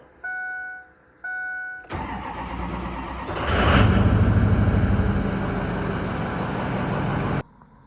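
Two warning chimes, then a 6.0 Powerstroke diesel truck engine cranks and starts, settling into a loud steady idle with a blower fan roaring while warming up to operating temperature before cutting off.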